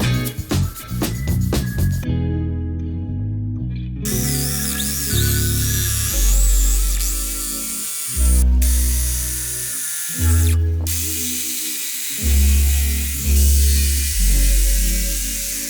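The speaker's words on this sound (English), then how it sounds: "So I got a piece of plywood, drew some curved lines, and I tested both units." A cordless jigsaw cutting curves in plywood whines in repeated bursts, its motor pitch rising and falling as the blade works through the wood, loud and close with short pauses between cuts.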